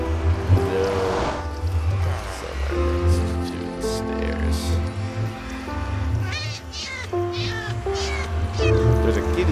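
Minecraft cat meowing repeatedly in the game, loud and close, a run of drawn-out tonal meows over steady background game ambience and a person talking.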